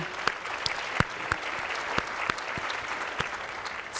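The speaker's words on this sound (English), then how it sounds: "I want to give a big round of applause to" Applause from a luncheon audience at a women's networking event in Chicago, a broad steady patter of clapping over four seconds with a few sharper individual claps standing out near the front.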